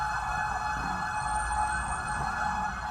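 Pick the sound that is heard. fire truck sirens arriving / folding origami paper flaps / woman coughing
fire truck sirens arriving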